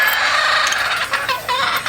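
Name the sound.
gamecocks (battle stags) on a game farm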